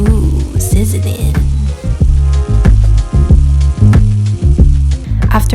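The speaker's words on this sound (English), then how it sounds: "Ooh, sizzling." Pesto sizzling in a hot frying pan: loud, steady frying with crackling pops and occasional scraping, close up and continuous throughout.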